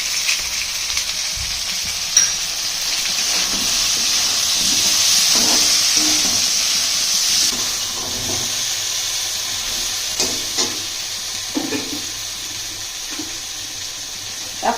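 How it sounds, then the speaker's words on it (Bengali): Spices sautéing with sugar, Kashmiri chili powder and a handful of raw rice in a pan, a continuous close sizzle with intermittent spatula scrapes and clinks, no speech. "এই মশলাগুলো দিয়ে ভালো করে কষিয়ে নেব।"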